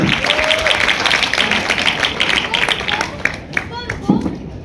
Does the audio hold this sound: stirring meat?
no